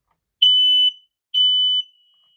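A household smoke detector being tested gives two sharp, loud electronic beeps, each about half a second long, close by in an otherwise silent room.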